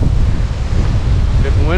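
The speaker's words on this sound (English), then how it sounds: "Getting windy." Strong winter wind gusts buffet the microphone at the end of a portage trail between two lakes in the Kawartha Highlands, a loud low rumbling roar that fills the short moment.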